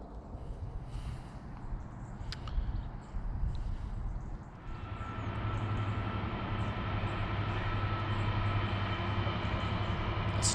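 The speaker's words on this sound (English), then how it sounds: "It's a train just through the trees on the Midland Old Road." A train passes on the old Midland line just beyond the trees near the former Renishaw Park Colliery. A distant low rumble swells after a few seconds into a steady, continuous roar that lasts to the end, with no voices.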